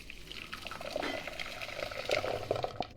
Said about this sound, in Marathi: यामध्ये आणखीन थोडंसं पाणी ॲड करते.